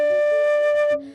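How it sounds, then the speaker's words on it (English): A whistle is played with one clear, sustained, loud tone that shifts pitch slightly and cuts off after about a second. "That's my new whistle."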